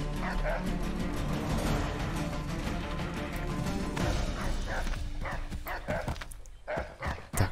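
Dog barking in the video game Assassin's Creed III, a run of repeated close barks and yips over game ambience, with someone talking alongside.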